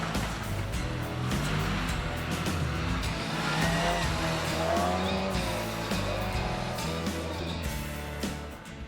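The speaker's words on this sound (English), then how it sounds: "Bill Kleindert and Dan Harrison showed just how well they could handle the Morris Mini Cooper, making the spins around the cones look almost effortless" A Morris Mini Cooper rally car spins around cones at the 2017 RAC Rally of the Tests, its engine revving hard amid squealing, skidding tyres in a sustained, busy stretch of motor noise.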